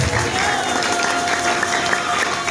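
Church congregation applauding during a sermon, dense steady clapping throughout with a faint background tone and murmur.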